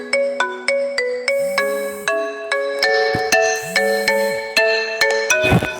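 A phone ringtone plays a bright, repeating melodic chime pattern, loud and close, cycling steadily through its tune with no talking over it.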